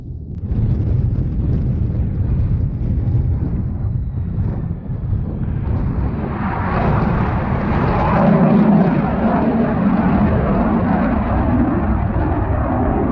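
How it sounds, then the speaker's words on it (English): F-18 jets flying overhead near a naval air station: a loud, continuous roar of jet engines that swells and broadens midway, heavy with wind buffeting, no voices. "And as you guys can hear, I'm close to a naval air station, and the F-18s are out playing."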